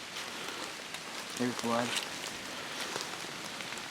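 Pouring rain falls in the woods during an autumn archery deer hunt, a steady close hiss throughout with a brief spoken remark in the middle.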